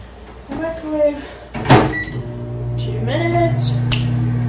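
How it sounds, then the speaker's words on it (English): A microwave oven heats a covered bowl of pasta rings in tomato and cheese sauce, with a door clunk and beep followed by a steady low hum of the running oven, close by. "Microwave."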